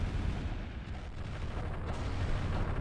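A thermal missile barrage in the Final Theory space strategy game rumbles as a dense, continuous wash of low booming explosions, steady and loud throughout without pauses.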